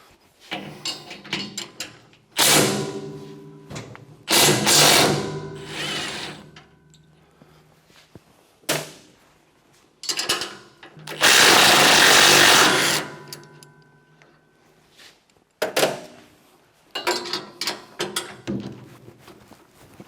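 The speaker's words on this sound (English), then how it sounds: "I'm going to use my handy dandy impact here and see if I can break them loose." An impact wrench with a 3/4 inch socket hammers at nuts on a MUSKOX 23 37 snowblower, loud rattling bursts of a few seconds each, several separate runs with quiet pauses between, close up and without talk.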